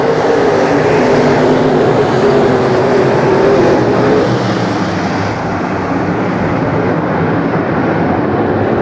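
A pack of IMCA race cars thunders around Arizona Speedway after a restart, a loud, dense and continuous engine roar close by that eases slightly toward the end, with no voices.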